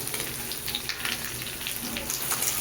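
Mola fish, onions and potatoes stirred together in hot oil in a pan, giving a steady close sizzle with soft scraping and stirring noises throughout.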